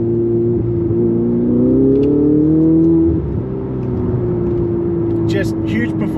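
A Ferrari 488 GTB engine drones loudly as it accelerates, its pitch climbing smoothly for about three seconds before dropping as if shifting gear, then carrying on at a lower steady hum.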